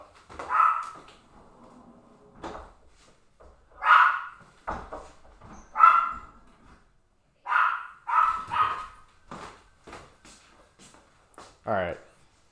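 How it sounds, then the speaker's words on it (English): An agitated pet dog barks at home, sending out several loud, separate barks and yips spread through the stretch. Someone talks between them, and a high whine closes it. "see what my dog's freaking out about"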